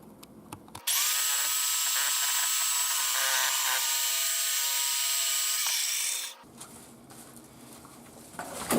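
A power saw cuts through pool PVC pipe, a loud, steady high whine lasting about five and a half seconds that starts and stops abruptly, with quieter handling noise before and after.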